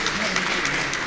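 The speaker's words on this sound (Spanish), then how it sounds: "un fuerte aplauso por favor" Audience at a geotechnical engineering workshop claps in a sustained, even burst of applause, full and close throughout its brief span.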